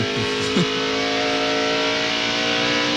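A NASCAR Craftsman Truck Series Dodge truck engine screams at high RPM around the track during the Florida Dodge Dealers 400, a steady, loud, sustained roar near the onboard microphone with no talk.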